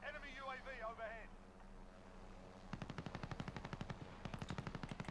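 Rapid automatic gunfire in Call of Duty Warzone, long bursts of sharp evenly spaced shots ringing out after an earlier stretch of talk and a whistling tone.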